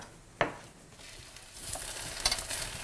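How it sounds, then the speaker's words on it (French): Aubergine slices frying in a very hot pan of olive oil with salt and pepper, a soft sizzle that swells slightly, with a couple of light clicks of utensil against pan. "Je poêle ces tranches d'aubergine dans de l'huile d'olive, dans une poêle bien chaude"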